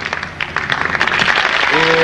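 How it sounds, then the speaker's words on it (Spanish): An audience applauds a band's keyboard player during on-stage member introductions at a concert, a burst of clapping that builds and swells, with a voice and a sustained tone near the end. "Un aplauso para él, por favor."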